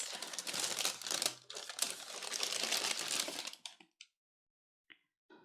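Makeup product packaging being torn open and crinkled by hand, a dense continuous crackle of paper and plastic for several seconds, then a few isolated rustles and taps after it stops.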